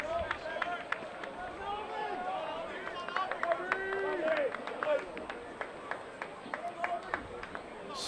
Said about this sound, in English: You can hear the crowd getting on the umpire.